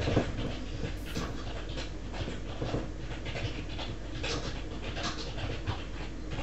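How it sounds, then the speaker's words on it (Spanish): A dog pants and whimpers at play, steady rapid breaths running throughout at close range with no talk. "Era su otro perro o algo así."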